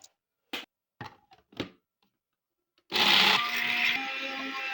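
After a few scattered knocks and thumps, a blender grinding dried plantain starts up loudly and keeps grinding with a steady, rough whir.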